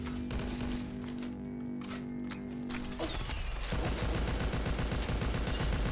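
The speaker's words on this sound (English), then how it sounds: "That's the fireworks." Fireworks in the mobile shooter Pixel Gun 3D crackle and pop in a dense, continuous barrage of rapid bursts, loud and busy throughout, shifting into a heavier, deeper rumble partway through.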